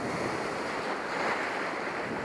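Ocean surge and waves wash over a reef in a steady, broad rushing roar, close and continuous, with wind buffeting the microphone.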